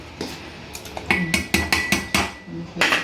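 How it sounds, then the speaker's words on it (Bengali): Semai payesh, a sweet vermicelli pudding with raisins, goes into a serving bowl as a spoon or ladle knocks and clinks against metal and dishware in a series of sharp, close taps. "সার্ভিং বলে ঢেলে দিচ্ছি"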